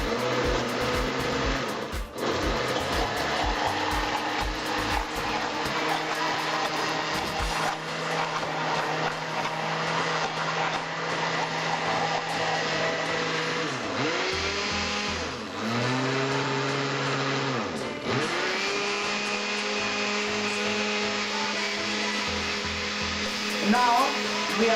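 An electric blender liquefies a flan mixture with manchego cheese. The loud, steady motor whirs with no talk, and its pitch dips and recovers a few times as the load shifts.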